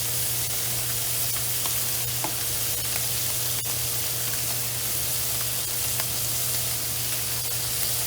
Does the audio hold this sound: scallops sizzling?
yes